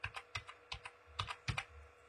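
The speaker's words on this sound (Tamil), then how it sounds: "நான் டைப் பண்ணிக்கிறேன்." Keystrokes on a computer keyboard entering a registration number, a quick uneven run of close, crisp clicks with short pauses, no talking.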